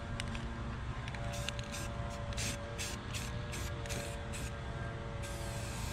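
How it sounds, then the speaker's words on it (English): Rust-Oleum wrinkle-finish rattle can spraying a fender, a series of short hissing bursts with brief gaps, close and steady, ending in a longer continuous spray. "So I am gonna rattle can this."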